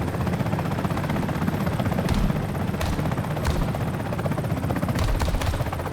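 Comanche helicopter in a flight video game, a steady loud rotor thrum with engine whine that holds constant throughout, close and continuous with no voices.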